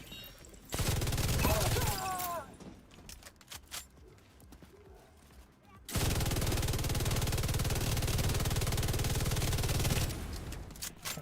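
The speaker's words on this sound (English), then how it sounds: "That's some shooting." Sustained automatic gunfire in a PvE shooter game, two long, loud, dense volleys of several seconds each separated by a quieter stretch with scattered shots and faint game chatter.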